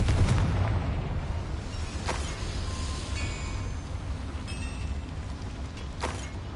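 The Confringo blasting spell goes off in the video game Hogwarts Legacy, a deep boom at the start fading into a rumbling, echoing tail with a couple of softer bursts afterward.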